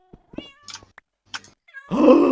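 A Minecraft cat gives several short meows in quick succession, clear and close, then a louder burst of game noise follows.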